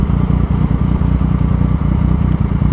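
A motorcycle fitted with Öhlins suspension runs steadily nearby, a loud, continuous low engine drone with a regular pulsing rhythm and no talk over it.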